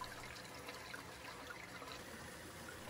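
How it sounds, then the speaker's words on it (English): Steady flow of water through the overflows and stealth box of a 265-gallon aquarium during filter startup, a quiet, even gurgling wash that holds level throughout with no talk. "Water's flowing through the overflows and the stealth box."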